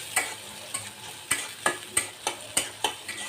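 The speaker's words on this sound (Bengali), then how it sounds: "পেঁয়াজ আর রসুনটাকে আমি এখন ভেজে লাল লাল করে ভেজে তারপর হচ্ছে ডালে দিয়ে দিব" Onion and garlic frying in oil for a dal tempering, a steady sizzle broken by sharp scraping stir strokes about every half second, close and fairly loud with no talking.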